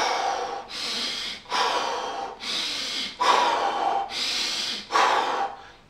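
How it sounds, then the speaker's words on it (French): Forceful, deep breaths drawn in and pushed out through the nose, about seven strong airy bursts in a steady rhythm, close and loud with brief pauses between them. "c'est de respirer très fort"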